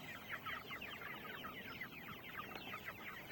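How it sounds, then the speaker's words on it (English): Chickens cluck continuously as they forage outdoors through grass, the soft, busy notes overlapping in an uneven chatter that is faint and fairly distant, with no voices over them. "So they're out here doing chicken things."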